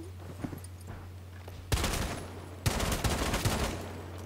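Bursts of gunfire in the tactical shooter Rainbow Six Siege break in suddenly after a quiet, humming stretch, two loud rapid volleys following one another at close range.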